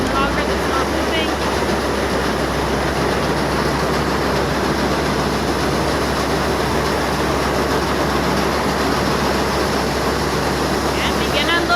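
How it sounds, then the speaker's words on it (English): Grain augers running at a farm bin yard during green pea harvest unloading, producing a loud, steady mechanical roar and rattle that holds at one level throughout. "Start up your machine. Get your augers all running first."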